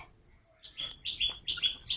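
Budgerigars chirping in a cage in quick bright bursts, several overlapping tweets close by, getting busier after a quiet start.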